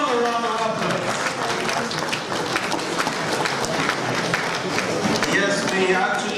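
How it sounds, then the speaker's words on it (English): A large audience applauding the deputy speaker of Nigeria's Federal House of Representatives, a loud, dense, continuous wash of clapping with crowd noise, steady throughout. "Can we give him another round of applause?"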